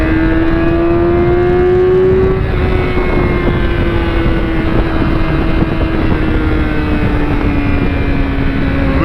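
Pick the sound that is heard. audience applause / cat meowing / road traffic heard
road traffic heard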